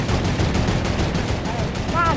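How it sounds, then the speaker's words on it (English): Rapid turret gunfire in the Fortnite video game, a dense continuous burst of shots running through the whole moment, loud and close, with players talking over it. "Terrence, stop shooting the turret"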